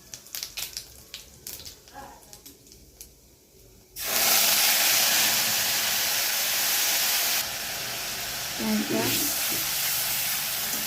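Onion paste drops into hot oil tempered with whole cardamom, cloves, cinnamon, bay leaf and cumin for a prawn dopiaza, bursting into a loud, steady hiss that holds for several seconds after some faint handling noises.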